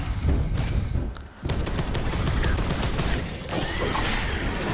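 Bolter gunfire in a video game rattles off in a dense, continuous loud barrage of rapid shots, briefly dropping out for a moment before resuming with crashing impacts.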